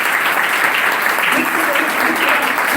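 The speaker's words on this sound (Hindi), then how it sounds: "तो ताली बजाकर प्रभु की महिमा करेंगे।" A church congregation clapping to praise the Lord, a dense, loud, sustained wash of many hands with voices mixed in and no breaks.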